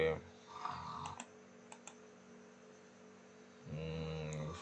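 A computer mouse clicking at a desk, a few sharp isolated clicks over a low steady hum, with speech at the start and end.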